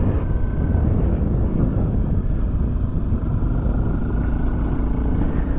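Honda CRF250L single-cylinder 250cc motorcycle engine running steadily while riding on dirt trails in Montana, a continuous close drone with wind rush over the microphone and no talk.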